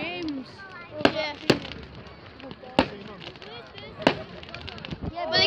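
Bonfire night fireworks at a rugby club in North Owram, several sharp bangs and crackling bursts at irregular intervals beneath nearby people chatting.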